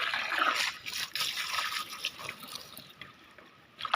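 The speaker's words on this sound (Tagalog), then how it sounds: "So this is the proper na pag paghugas ng gulay." Running water pours and trickles steadily while chayote shoots are washed by hand, with soft splashes and drips rising and falling close by, without any talk.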